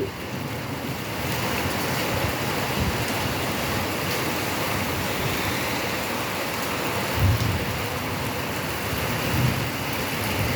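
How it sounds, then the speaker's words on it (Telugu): Heavy rain pours steadily in a dense, continuous hiss, with a couple of faint low rumbles underneath and no voices. "ఇక్కడైతే చాలా వాన పడుతూ ఉంది"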